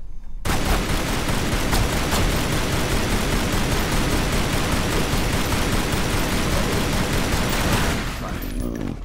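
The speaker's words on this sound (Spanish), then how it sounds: "Bueno, pues a esta la voy a disparar" Dense, continuous gunfire in the video game Tomb Raider Anniversary as panthers are shot in an Egyptian temple, a loud rapid barrage of overlapping shots lasting about eight seconds before cutting off.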